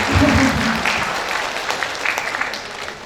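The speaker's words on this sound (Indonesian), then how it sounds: "tepuk tangan ya Bapak Ibu" Audience applause at an Indonesian talk show for a humanitarian foundation, a loud, dense burst of clapping from a seated crowd that fills the whole moment and tapers slightly toward the end.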